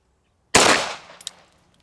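A Sig Legion pistol fired in double action: one sharp, loud gunshot that breaks the silence and trails off into a short echoing decay, with a faint metallic click after it.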